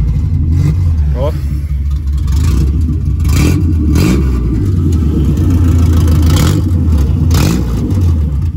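A Volkswagen Gol engine revs through its exhaust pipe, loud and close, with repeated throttle blips over a rumbling idle while people talk over it.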